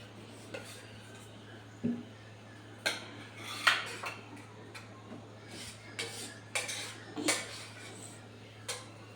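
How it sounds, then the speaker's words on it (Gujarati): A spatula scrapes and taps against a pan while flour roasts in ghee for Sindhi khorak, giving about a dozen scattered clinks and scrapes over a steady low hum, with no talk. "આપણે ધીરે ધીરે લોટ શેકાઈ રહ્યો છે"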